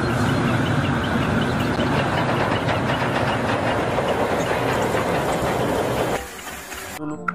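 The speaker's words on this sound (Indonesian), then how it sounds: "Coba dinyalakan. Wah, kereta api Thomas." A battery-powered toy Thomas train runs steadily with a whirring motor and a rattly clickety-clack for about six seconds, then cuts off abruptly, leaving brief quiet near the end.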